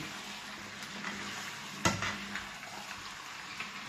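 Chicken and onions sizzle steadily in a pan while a ladle stirs them, heard close up, with one sharp clunk of the utensil against the pan partway through.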